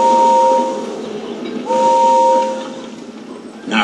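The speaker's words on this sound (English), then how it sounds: "the whistle that's left must be for James" A steam engine whistle from a children's railway show sounds in two long, loud, steady blasts with a hiss of steam between and after them.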